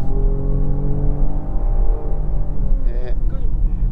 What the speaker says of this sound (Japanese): メインは後ろの床下から来るマフラーの音でしょ。